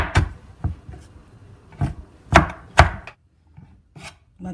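A knife chops onions on a board in an irregular run of sharp, close knocks and soft scrapes, with a short pause before a few final cuts.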